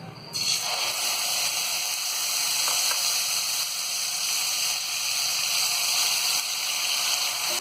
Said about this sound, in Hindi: हल्का सा इन्हें फ्राई करेंगे और इसी में डाल देंगे हम ये पिसी हुई प्याज।